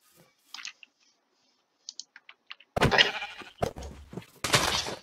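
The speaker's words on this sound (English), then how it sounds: "I do see sheep." Sheep bleat in the Minecraft video game, a couple of short, loud bleats in the second half, preceded by scattered light keyboard clicks.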